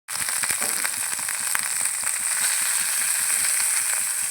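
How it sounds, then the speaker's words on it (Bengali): Dried fish frying in a little mustard oil, a loud close crackling sizzle with sharp popping spatters throughout, steady and without speech. "এই যে আমি একটু সর্ষের তেল দিয়ে শুটকি মাছটা ভাজতেছি"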